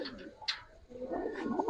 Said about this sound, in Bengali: ওটা কোবরা কবুতর